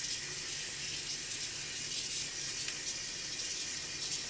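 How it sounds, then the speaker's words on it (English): Running water splashing and hissing steadily, like a tap gushing into a sink, continuous for several seconds with no talking. "It just splashed water all over the floor"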